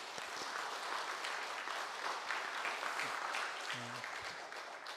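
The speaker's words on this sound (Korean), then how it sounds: "우리 모두가 함께 박수로 영광 돌리겠습니다" A church congregation claps steadily for several seconds during a Sunday service, a dense wash of applause heard from within the room.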